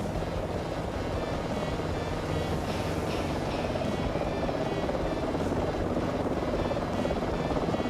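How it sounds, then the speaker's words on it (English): A helicopter flies nearby in Microsoft Flight Simulator 2024, heard as a dense, steady rotor and engine rumble with broadband wash, loud and continuous throughout. "some helicopters can keep up with, because I hear a helicopter"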